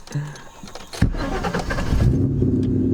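A 1996–2004 Ford Mustang engine cranks and catches, then settles into a loud, steady rumbling idle close by after a brief quiet start.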